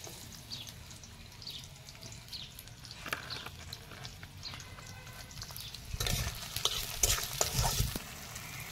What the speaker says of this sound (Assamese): পিঁয়াজখিনি ধুনীয়াকৈ ৰঙচুৱাকৈ ভাজি ল'লোঁ।